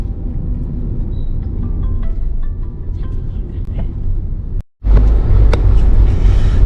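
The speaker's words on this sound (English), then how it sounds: "we are on the outer of Chennai on the Trichy highway, and there is a lot of traffic right now" Heavy road traffic on the Chennai–Trichy highway on the outskirts of Chennai, a loud continuous rumble of passing vehicles heard from inside a moving car, with a brief dropout then louder road noise.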